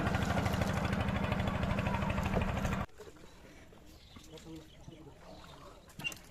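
Boat on the Turag river: a loud, rapidly chugging motor close by for about three seconds, then it cuts off abruptly, leaving quiet water and faint background noise.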